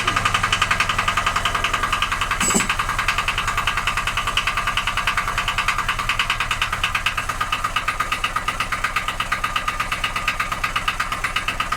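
An old Ursus tractor idling, its engine putting out a steady, rhythmic chugging pulse close by, with one brief sharp knock early on.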